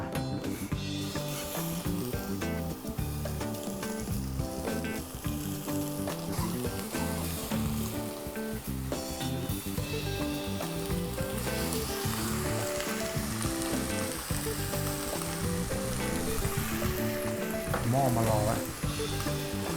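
Steady, dense sizzling of fish frying in a hot pan, continuous and fairly loud throughout, with faint voices in the background.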